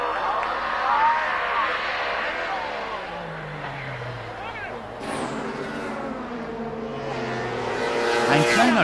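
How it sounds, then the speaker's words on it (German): DTM race cars, Opel Calibras among them, roar and rev loudly through a huge multi-car crash at the 1995 Avus Berlin race, with engines sweeping up and down, a sharp burst near the middle, and a commentator talking over them. "Im weiß-gelben Calibra erlebt der Finne den größten Massencrash der DTM-Geschichte"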